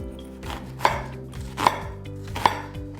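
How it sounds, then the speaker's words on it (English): Three sharp, evenly spaced knife strokes hit a cutting board as vegetables and onion are roughly chopped, each chop crisp and close, with no voices. "we're just gonna kind of roughly chop up our veggies into pieces here"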